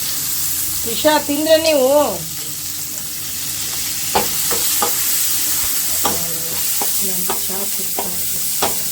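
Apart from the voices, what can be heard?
onion and chilli frying in a pan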